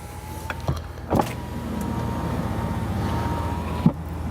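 A 2019 Ram truck's air suspension lowers all the way to its lowest exit-entry setting, a steady electric motor whine and hum held for several seconds, framed by a few sharp clicks and thumps.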